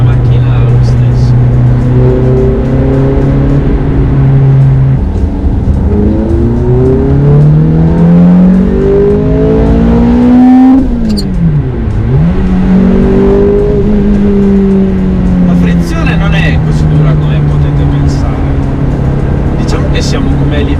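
A Ferrari F430 with a six-speed manual gearbox revs and accelerates through rising gears while driving in the rain, loud and close from inside the cabin, with clear upshifts and a downshift midway and someone talking over it.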